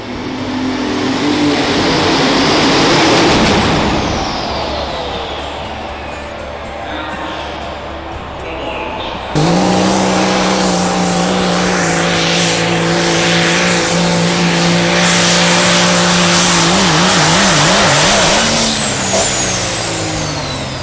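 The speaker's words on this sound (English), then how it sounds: "that beastly engine roaring" A tractor-pulling engine, likely a Peterbilt-powered truck, roars loudly and continuously, with rising and falling revs and then a sudden jump to a harsher, steady full-throttle bellow, while a voice talks over it.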